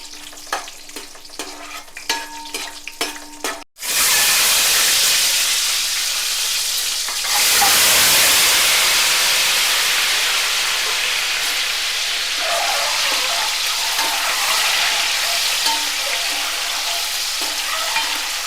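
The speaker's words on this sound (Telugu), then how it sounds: "జీడిపప్పు అయితే వేస్తున్నాను బాగుంటుంది జీడిపప్పు వేసుకుంటే ఇది కొంచెం దోరగా వేపుదాము" Cashew nuts fry in a pan with a loud, steady sizzle that bursts in and holds, briefly swelling as the nuts are stirred, after a quieter stretch at the start.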